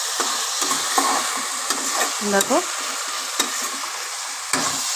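Kashmiri chili powder, sugar and turmeric frying in oil for a bottle gourd curry, a loud close sizzle broken by spoon scrapes and clinks against the pan, with a single brief spoken word.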